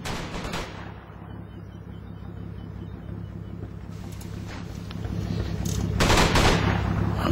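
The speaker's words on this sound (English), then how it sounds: "Got some suppression fire coming down here." Distant suppressing gunfire in Combat Mission Market Garden, a World War II tactical game, rumbles as a steady crackle under a constant low drone, swelling louder toward the end.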